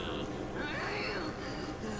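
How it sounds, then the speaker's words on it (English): A female character in El Shaddai: Ascension of the Metatron lets out a continuous, harsh cat-like scream for about two seconds, loud and steady throughout. "She's just cat screaming at me?"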